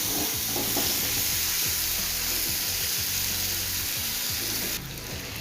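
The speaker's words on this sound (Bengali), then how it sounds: "পেঁয়াজটা আলুটা একটু ভাজা ভাজা করে নেব।" Chopped onion and potato frying in a hot pan, a steady loud sizzle throughout with stirring scrapes, close and continuous, no voices.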